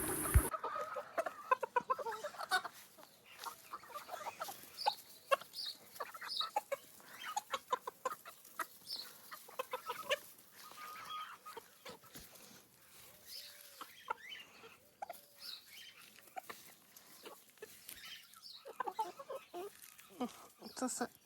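Several hens cluck and murmur nearby in a steady, scattered chatter, with occasional rustling and a voice speaking intermittently.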